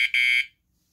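A short, piercing electronic tone from an Onvian bike tail light security alarm, a quick blip followed by a half-second steady beep, then silence.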